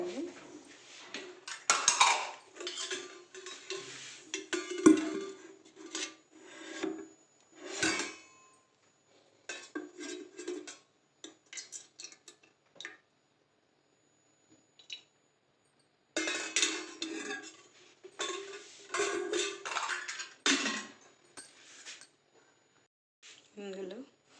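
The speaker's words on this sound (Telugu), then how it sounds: "నెక్స్ట్ మనం ప్యాన్ పెట్టుకొని 2 స్పూన్స్ ఆయిల్ వేసుకోవాలి" A pan is set on a stove and oil is spooned in, heard as clinks, knocks and metal scrapes in scattered bursts separated by near-silent gaps.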